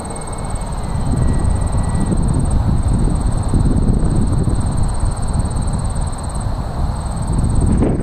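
A radio-controlled HL MiG-15 jet model on wheels comes in to land on a windy day, giving a loud, steady rush of ducted-fan whine mixed with gusting wind noise that carries on throughout without a break.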